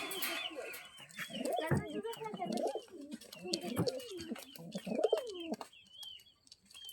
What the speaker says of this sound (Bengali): কবুতরটা আসলে মাশাআল্লাহ ভালো। তো আমরা খাঁচাই সাইডে দেখতেছি